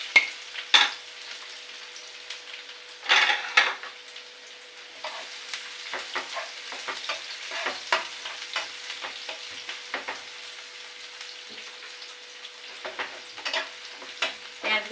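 Chopped onions hit hot oil in a wok and settle into a steady, close crackling sizzle, broken by a few louder spitting bursts and occasional stirring.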